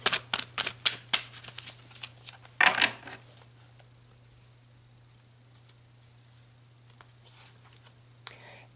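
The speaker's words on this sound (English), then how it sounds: "So let's pull some cards." Tarot cards being shuffled, a quick burst of crisp riffling and slaps close by, then quieter scattered card handling over a low steady hum.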